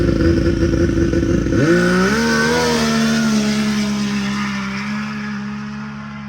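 A 600+ horsepower Sidewinder snowmobile engine at night on a trail, loud and close, revving sharply upward then holding a high whining pitch before slowly easing off.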